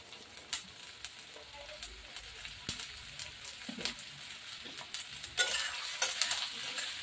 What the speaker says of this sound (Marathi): कांदा आणि शिमला मिरची छान अशी आपण एकजीव करून घेऊया.